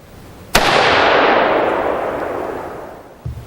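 A single loud AR-15 rifle shot fired through a muzzle brake at an outdoor range, a sharp blast followed by a long rolling echo that fades over about three seconds, with a faint thump near the end.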